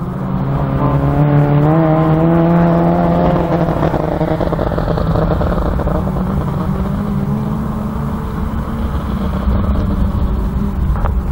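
Autograss race cars roaring around the St Neots dirt track during the finals, several engines revving and droning loudly together without pause, with pitch swells as cars accelerate and pass.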